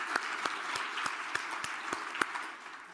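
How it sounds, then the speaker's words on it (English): Conference audience applause at an annual conference keynote, a moderate, fairly distant wash of clapping with a few sharper individual claps standing out, fading slightly at the end. "How about another round of applause for these exceptional individuals, Mark, Chris, Kate, and Todd."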